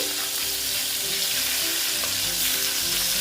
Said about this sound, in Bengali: আস্তে আস্তে মাছগুলো ভাজা করে দিই